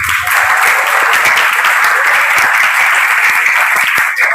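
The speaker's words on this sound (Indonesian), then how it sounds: "Tepuk tangan." Loud, dense applause from a room of eleventh-grade high school students at SMA 2 Bangkalan, sustained and even, heard close and alone without talk.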